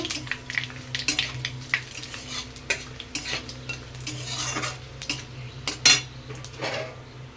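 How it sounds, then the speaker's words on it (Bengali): Panch phoron, dry red chillies and bay leaves fry in hot oil for a Bengali katla fish head and pumpkin dish, a faint steady sizzle under sharp clinks and scrapes of a metal spoon stirring against the pan. "পাঁচ ফোড়ন শুকনো লঙ্কা আর তেজপাতা ফোড়নটাকে খুব ভালো করে ভেজে নেব"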